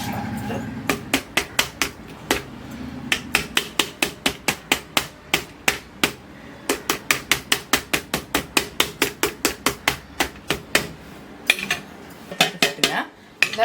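Metal Mysore pak mould tapped repeatedly with a roller, sharp ringing clanks in steady rapid runs with short pauses, close and loud, no talk.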